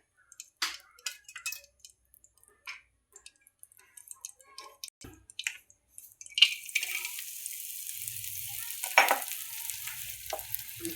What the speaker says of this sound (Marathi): असं तेलात चांगलं परतायचं, कारण सगळं भाजलं जातं